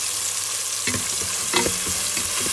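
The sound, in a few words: onions sautéing in a pan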